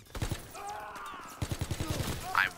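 Gunshots in Call of Duty WW2, two quick rapid-fire bursts of rhythmic shots, moderately loud, with mechanical clatter and a faint voice in between.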